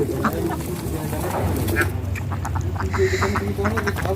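Ducks quack repeatedly in a busy, overlapping chorus close by, over a low steady background hum.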